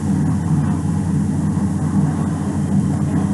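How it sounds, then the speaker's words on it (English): An airplane in flight gives a loud, steady engine roar with a broad low rumble that holds constant. "Airplanes speed through the air to bring people to faraway places."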